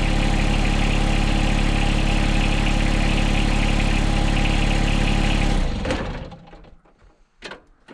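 A John Deere X758 garden tractor engine idles steadily and loudly close by for several seconds, then shuts off and winds down, leaving a few faint clicks and knocks.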